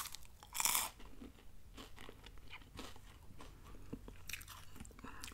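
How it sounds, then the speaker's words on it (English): Slightly stale Voortman sugar free lemon wafers being bitten and chewed up close, with one sharp loud crunch followed by steady softer chewing. "Not much crunch left"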